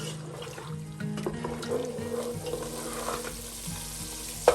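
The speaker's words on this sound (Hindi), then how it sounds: "अब मसाले को अच्छी तरह भून लेंगे।" Masala fries in about 200 ml of oil in a pan, a steady close sizzle and crackle broken by scraping stirs of a spoon against the metal.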